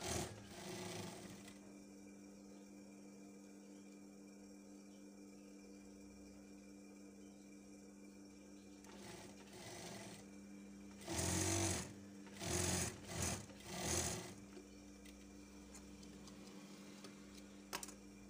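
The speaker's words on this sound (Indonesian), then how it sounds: "Oke, kita jahit dulu kupnatnya bagian belakang ya." A sewing machine stitching the back darts of a lace gown, faint steady mechanical hum at first, then several short louder bursts of rapid stitching near the end, with no talking.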